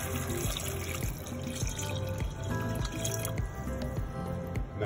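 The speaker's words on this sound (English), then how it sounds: "And then we're gonna add in about 5 cups of water." Water poured into a pot of cut-up potatoes for restaurant-style mashed potatoes, a continuous splashing, dripping fill heard close and steady for several seconds.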